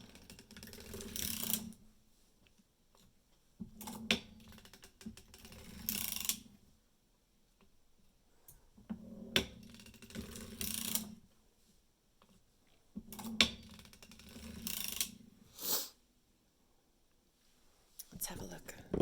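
A hand-cranked sock knitting machine, heel fork pulled down and few needles in use, gives repeated bursts of ratcheting mechanical clatter separated by quiet pauses, with soft whispery noise.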